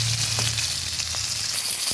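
Pieces of rohu fish frying in oil in a pan, a continuous hissing sizzle with a faint low hum beneath and a few soft taps, steady and close, without speech.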